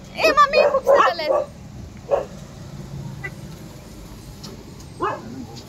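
A dog barks a few times in quick bursts near the start, then gives a single bark and a later yelp, fairly close, with quieter background sound between.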